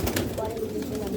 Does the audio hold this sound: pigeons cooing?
yes